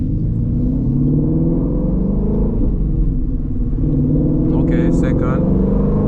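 A manual-transmission Shelby GT350 Mustang engine rumbles deep and steady throughout, building slightly near the end, with someone talking over it from inside the car.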